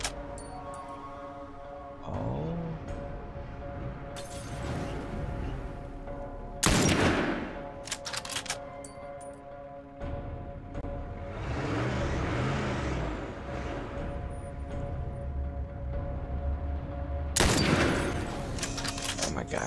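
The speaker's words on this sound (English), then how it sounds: "Shoot the tire, shoot the tire, shoot the tire, shoot the tire." Gunfire in The Last of Us Remastered comes in a few loud, sharp bursts and volleys spread across the stretch, set against engine rumble and game noise, without speech in between.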